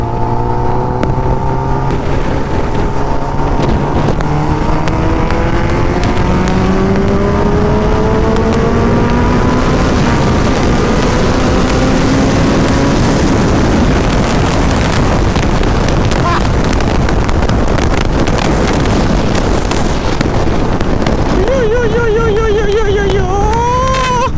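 A motorcycle engine revs up through several rising gear shifts, loud and close, with heavy wind buffeting the microphone as speed builds.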